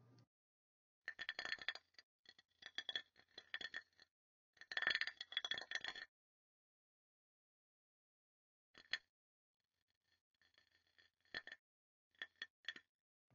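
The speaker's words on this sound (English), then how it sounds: "This allows material changes to be immediately reflected in sliding and impact sounds." Synthesized contact sounds of textured models sliding and striking, heard as bursts of faint metallic rattling and clinking with short scraping runs and quiet gaps between them.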